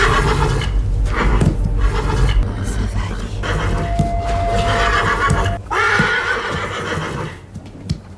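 A horse neighs loudly in a drama series scene, a long, strained whinny that rises and falls, with hoof clip-clop and other busy noise around it.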